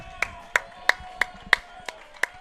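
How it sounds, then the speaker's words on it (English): A person named Austin claps in a baseball dugout, producing seven sharp, evenly spaced claps at a steady rhythm, close and distinct over quiet background murmur. "apologize for Austin's clapping on the screen"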